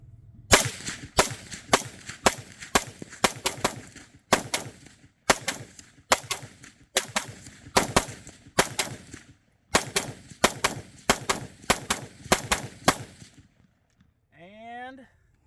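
Primary Weapons Systems MK116 Mod 2-M long-stroke rifle firing a full magazine of M855 Winchester ammunition at a range, a quick string of sharp, loud shots in uneven bursts, then a short voice at the end.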